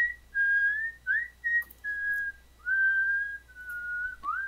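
A person whistles a wavering, tuneful line of several sustained notes with short gaps between them, close and clear, imitating a whistle heard outside during a tabletop role-playing game.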